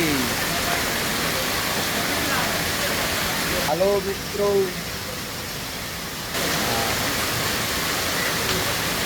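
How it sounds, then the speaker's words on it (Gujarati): Heavy rain pours down in a dense, steady hiss in Palanpur, Gujarat, India, during the monsoon. Someone speaks briefly in the middle. "પાલનપુરમાં ધોધમાર વરસાદ છે।"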